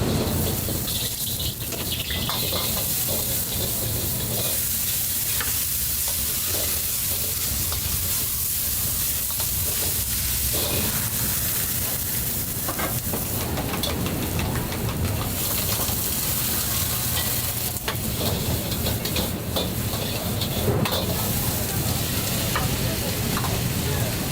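Loud, continuous sizzling fills a Taiwanese street stall as a chef stir-fries fried rice in a wok, with scraping and clattering of the spatula rising and falling throughout, close up.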